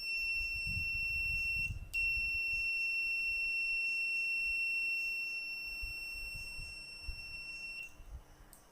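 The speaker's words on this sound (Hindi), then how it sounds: "तो ये आपकी क्रेटाइल डोरबेल है।" A Cretile robotics kit doorbell buzzer sounds a steady, continuous high-pitched electronic tone. It cuts out briefly twice, with faint low rumbling and handling noise underneath.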